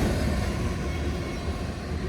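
A CSX freight train, number 647, passes on the Henderson Subdivision. It makes a steady, heavy low rumble of rolling cars that holds at an even level throughout, close by and with no voices.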